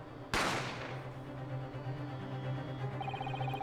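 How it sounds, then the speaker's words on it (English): A single sharp gunshot cracks near the start in The Great Ace Attorney Chronicles, loud and close, then rings out over a steady low game background hum, no talking. "You heard the gunshot, you mean?"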